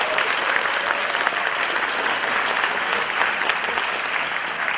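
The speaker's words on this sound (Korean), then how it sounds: "이런 멋진 회사 박수 한번 치실까요?" A seated audience at a corporate presentation giving a round of applause, dense and continuous clapping from many people at an even level throughout.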